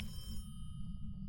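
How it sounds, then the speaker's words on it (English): In Phasmophobia, at Brownstone Highschool, a telephone rings faintly and muffled from upstairs, a couple of soft rings over a steady low hum. "I heard a phone, but I think it was upstairs."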